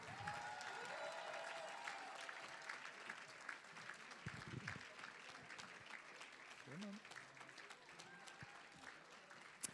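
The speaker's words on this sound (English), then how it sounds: "Keep going, keep clapping while they make their way up here." At an awards ceremony, a crowd gives sustained applause for honourees walking up, a continuous, faint, distant-sounding patter of many hands with occasional louder claps and brief voices mixed in.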